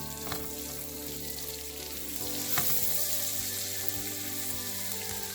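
Garlic sautéing in a pan for shrimp pasta makes a steady, dense sizzle that swells slightly partway through, with faint stirring and no one speaking.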